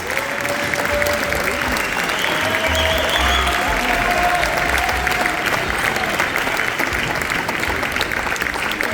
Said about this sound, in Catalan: Feu durar una mica més l'aplaudiment